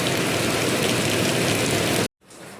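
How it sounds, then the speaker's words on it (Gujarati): Rain keeps falling in Ahmedabad, a loud continuous roar of drops that cuts off abruptly near the end, then returns as a quieter patter. "4 વાગ્યા ને તો બી વરસાદ ચાલુ જ છે."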